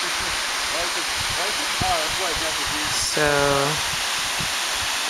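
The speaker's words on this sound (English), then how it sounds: "here's another waterfall" A waterfall at Castle in the Clouds rushes as a steady broadband wash of water, with a person speaking briefly over it and a short tonal squeal partway through.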